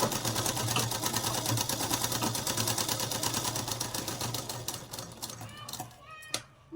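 A sewing machine stitches a small child's cloth mask with a fast, rhythmic mechanical clatter, close and steady for several seconds before slowing and stopping, with faint handling sounds at the end.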